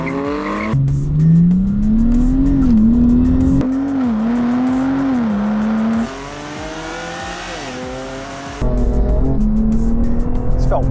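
A twin-turbo straight-six race car weighing 1,600 kilograms roars close by under hard acceleration. Its pitch climbs and drops sharply with each gear change, then eases to a quieter stretch before surging loudly again.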